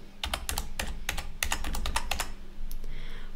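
Someone types a date on a computer keyboard while entering records in the POHODA accounting program. The keystrokes come in quick bursts of sharp, close clicks, with a short pause near the end and no voice.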